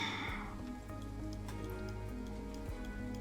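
Steady rain falling in the survival video game Endzone, a faint continuous patter with scattered drop ticks, heard alone without any talk.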